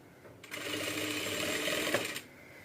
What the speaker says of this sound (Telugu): ఇదిగో నేను కుట్టి చూపిస్తున్నాను చూడండి. నార్మల్ కుట్టు కూడా చాలా నీట్గా వస్తుంది